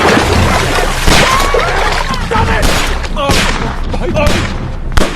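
Rapid bursts of gunfire crackle throughout a Hindi film action scene, loud and close, with a chaotic layer of shouting and commotion underneath.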